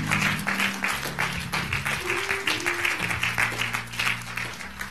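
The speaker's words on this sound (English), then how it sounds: "let's give God a hand clap of praise in the sanctuary" Steady, dense hand clapping from a church congregation during a Sunday service, continuing evenly throughout with a low hum of voices and music underneath.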